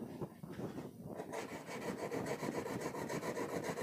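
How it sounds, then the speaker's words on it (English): A yellow crayon is rubbed across paper in rapid, steady back-and-forth strokes all in one direction, a close, dry scratching that grows denser and more even after a brief, lighter start. "See children, I am coloring in the same direction."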